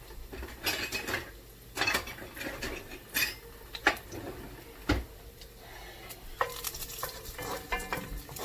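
Chopped garlic dropped into hot oil in a pan, a soft continuous sizzle broken by a few sharp clinks and scrapes of a utensil against the cookware, close by with no one talking.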